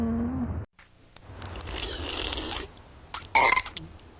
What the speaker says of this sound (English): We're having a burp contest